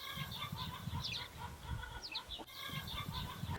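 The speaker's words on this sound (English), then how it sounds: "Chicken's laying an egg." A hen clucks repeatedly while laying an egg, a steady run of near, moderately loud clucks and squawks over low background rumble, somewhere near a garden.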